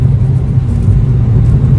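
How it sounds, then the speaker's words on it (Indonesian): A 2015 Kia Rio, a former taxi with a restored engine and suspension, accelerates hard at speed, giving a loud, steady low engine and road rumble that holds without a break and with no talk over it. "ini kita coba kecepatannya jambak banget, ini kenceng banget mobilnya"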